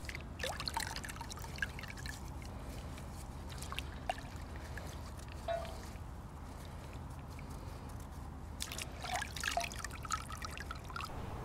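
Water trickles and drips softly while freshly harvested ashwagandha roots are scrubbed clean of soil with a bath glove, a faint continuous wet splashing with occasional small bursts, no talking.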